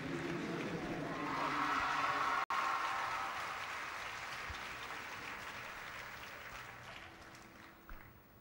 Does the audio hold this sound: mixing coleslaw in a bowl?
no